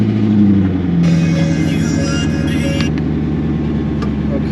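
A C5 Corvette engine starts and then runs at a steady idle, a loud, continuous rumble with a whirring hum above it that holds for the whole span with no squealing or flapping.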